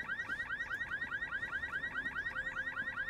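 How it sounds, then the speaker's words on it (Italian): A car alarm blares in a steady looping siren, loud and close, its rapid rising chirps repeating evenly for the whole stretch with no voices over it. "Disattiva l'allarme."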